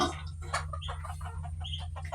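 A native mother hen clucking in short, irregular bursts over a steady low hum, with other chickens' calls mixed in nearby.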